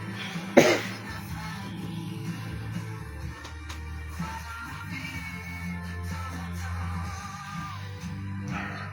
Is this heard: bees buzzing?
no